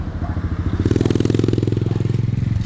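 A small motorcycle pulls away, its single-cylinder engine revving up from a lumpy idle into a fast, loud, rhythmic thumping close by.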